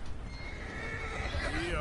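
A horse whinnies with a rising, wavering neigh, accompanied by hoof clip-clops and a low ambient rumble.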